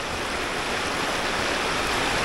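A waterfall roars in a steady, dense rush of falling water, loud and close, continuing without a break and with no voices over it.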